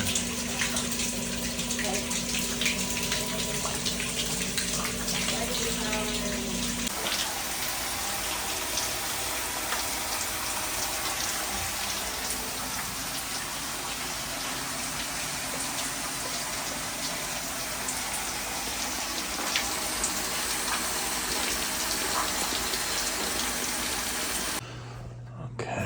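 Water from a burst pipe at a frozen water heater in a building's mechanical room rushes in a loud, continuous gush, steady for the whole stretch with a brief change near the end.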